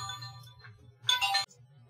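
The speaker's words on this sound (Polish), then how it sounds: "Momencik. Telefon." A phone ringtone sounds at a soldering workbench, a short bright electronic chirp lasting under half a second over a low steady hum, fairly faint and close.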